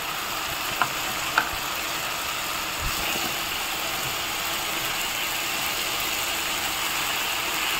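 Fried elephant foot yam and potatoes go into spiced oil with softened tomato masala, giving a steady, close sizzle across the whole stretch, with a couple of brief stirring knocks near the start.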